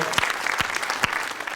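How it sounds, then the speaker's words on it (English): An audience at a film screening in New Zealand claps in a dense, close burst of applause, with a few sharper individual claps punching through the steady patter. "Give him a round of applause."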